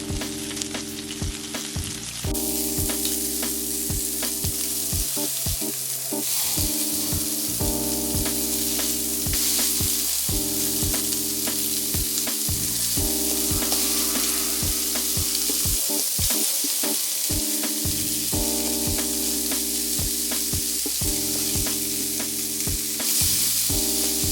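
Shrimp burger patties sizzle on a flat top griddle over medium-high heat, a steady loud frying hiss running throughout with faint scraping and tonal kitchen sounds layered over it, no talking.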